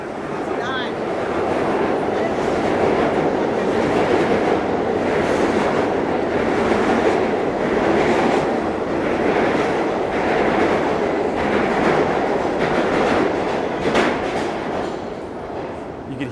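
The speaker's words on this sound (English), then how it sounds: "hear the subway right under our feet." A subway train runs underground beneath a Midtown Manhattan street, a loud continuous rumble with rhythmic clickety-clack from the wheels that holds steady throughout.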